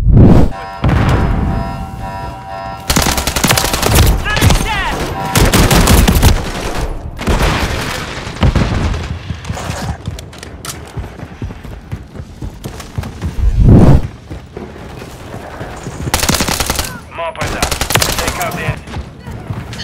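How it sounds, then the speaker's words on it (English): Call of Duty MW3 multiplayer gunfire, repeated loud bursts of automatic rifle fire and single shots with heavy booms, close and intense over nearly twenty seconds, with brief shouting voices. "They're shooting at us!"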